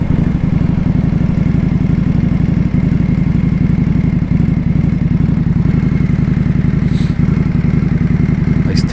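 Motorcycle engine drones loud and close while riding, a steady throbbing mid-range rumble with a pulsing firing rhythm and slight wind noise, continuous throughout.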